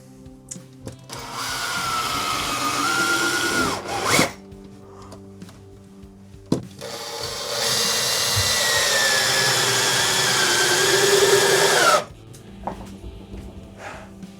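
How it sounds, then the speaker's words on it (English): A power drill whirs loudly in two long bursts with a pause between them, drilling holes to mount kitchen cabinets, set among quieter clicks and handling sounds. "I need to drill some holes so we can get these bad boys up here."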